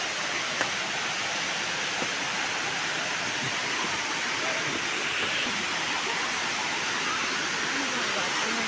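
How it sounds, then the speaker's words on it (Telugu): Steady, dense roar of a waterfall at a tourist spot, broadband rushing water filling the whole clip with even loudness and no distinct breaks. "వాటర్ ఫాల్స్ దగ్గరికి వస్తుందండి."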